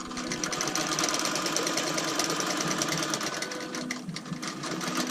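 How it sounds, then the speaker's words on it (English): A home sewing machine stitching a purple quilt runs steadily at high speed with a fast, even mechanical chatter, close and continuous, briefly dipping near the end before resuming. "Maybe the sewing machine itself."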